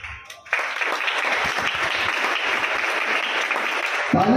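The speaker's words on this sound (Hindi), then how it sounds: "ताली बजाओ तो अच्छे से बजाओ," An audience at a Jain sermon breaks into a burst of applause that starts abruptly and holds at a steady, dense clapping for about three and a half seconds before cutting off.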